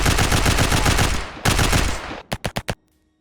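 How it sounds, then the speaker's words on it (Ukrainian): Sustained minigun fire from the video game Last Heli: a dense, roaring stream of rapid shots that cuts briefly, resumes, then ends in four separate short bursts before falling silent. "Мені здається, звук зброї занадто потужний"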